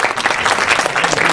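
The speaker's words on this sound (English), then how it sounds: "a big round of applause for Todd for taking time to come in via Skype." A conference audience breaks into a round of applause for a panel co-moderator joining remotely, dense steady clapping from a full room, loud and close, with no talk over it.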